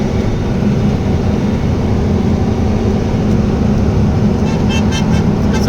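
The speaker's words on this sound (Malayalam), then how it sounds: "നമ്മുടെ കമ്പനിയുടെ ഒരു ലോക്കൽ ഓടുന്ന വണ്ടിയായി പോകുന്ന കേട്ടോ" A local company truck on a Gujarat road rolls past with steady loud engine and tyre roar, close and continuous, with brief faint horn-like toots near the end.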